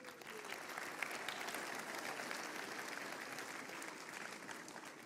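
Steady applause from a banquet crowd rewarding a raffle winner at a Big Buck Banquet, a continuous wash of clapping hands that holds at an even, moderate level for the whole stretch.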